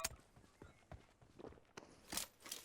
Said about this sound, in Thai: เสียงเท้าเดียว